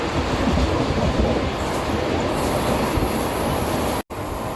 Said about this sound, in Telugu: ట్రైన్ మ్యాక్సిమం స్పీడ్ కొడుతున్నాడు